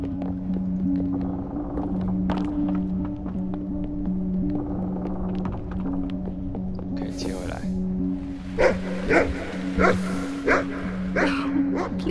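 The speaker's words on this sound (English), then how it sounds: "Please stop your barking." In the video game The Cave, a dog barks in a short run of sharp, repeated barks over a steady humming background tone, with louder barks clustered toward the end.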